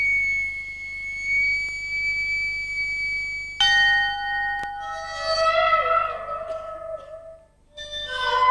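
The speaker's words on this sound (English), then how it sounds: "And a ship's bell way underneath the ocean." A ship's bell rings as if deep underwater for a BBC Two ident sound effect, with sustained resonant tones, echoing swells and a wavering, whale-like ringing that fades and returns.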